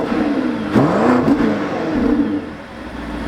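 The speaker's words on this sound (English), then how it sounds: "let's get you guys a little exhaust clip" A BMW X5 M60i, a V8 SUV, has its exhaust revved up and let settle again, with a swelling engine note, close and loud, and no voices.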